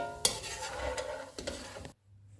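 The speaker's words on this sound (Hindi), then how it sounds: "किशमिश फ्राई करेंगे" Raisins frying in a pan for Punjabi dal panjiri make a close, crackling sizzle with a spoon clanking and scraping through them, then the sound stops abruptly into near silence.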